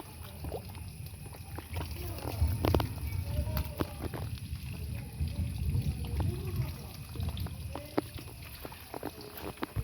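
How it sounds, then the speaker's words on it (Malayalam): Water trickles and splashes from a small spring beside a well after heavy rain, a faint, uneven watery burble with soft knocks and wind noise. "നമ്മളെ കിണറ്റിൽ നിന്ന് വെള്ളം വരുന്നതാണ്."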